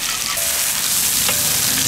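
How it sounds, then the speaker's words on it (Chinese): Chili peppers hit hot oil in a wok, a loud, close, continuous sizzling hiss with crackling spits throughout the brief moment. "油老了下辣椒炒"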